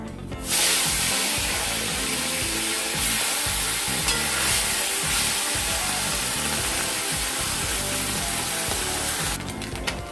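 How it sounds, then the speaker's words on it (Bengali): Batch of fish frying in oil in a kadai, giving a continuous loud hissing sizzle close by that holds steady for nearly the whole stretch, then cuts off briefly near the end; no voices. "এইভাবে সবগুলো মাছ আমরা ভেজে নেব।"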